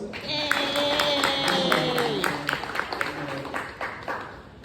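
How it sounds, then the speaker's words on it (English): An audience at a business panel discussion applauds with steady clapping that fades over a few seconds while a voice talks over it. "Give them another round of applause."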